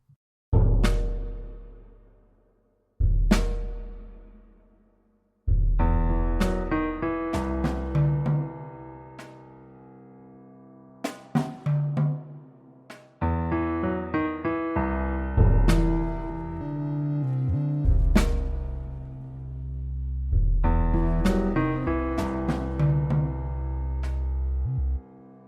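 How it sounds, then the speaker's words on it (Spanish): A short musical piece built from a dramatized podcast text: sparse struck chords and notes ring out and fade, first as isolated hits, then as fuller repeated phrases with long decays, with no speech. "lo convierte en una pieza musical que suena"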